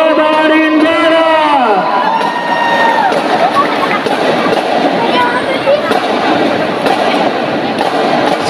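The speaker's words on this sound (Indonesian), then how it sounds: "beri tepuk tangan yang gemuruh untuk MTs Negeri 2 Kota Rinjani" Audience at a school concert competition cheering and clapping for a madrasah performing group, a loud continuous crowd roar after a falling whistle or shout at the start, with voices mixed in.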